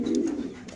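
A racer pigeon gives a short, soft low coo, close and brief, with faint background noise.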